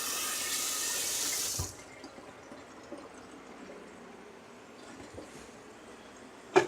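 Water runs from a tap into an emptied bean can for a moment, a bright hissing stream that stops abruptly, followed by quiet kitchen handling and a small clunk.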